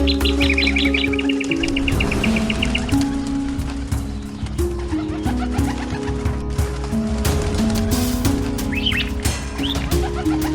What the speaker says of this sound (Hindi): ये पंछी तो जाल में फंस गए हैं।